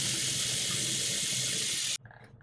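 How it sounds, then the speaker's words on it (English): Water gushes steadily from a tap into a clear plastic fishing bubble float, a loud continuous hissing pour that stops abruptly near the end, leaving faint handling sounds. "Just push the cork out so that you could fill it up with water."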